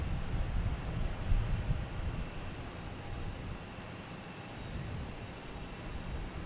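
A Delta airliner taxiing at Boston Logan Airport, a faint, steady low rumble in the distance mixed with wind buffeting the microphone.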